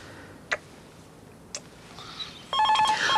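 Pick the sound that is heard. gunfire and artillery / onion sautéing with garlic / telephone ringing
telephone ringing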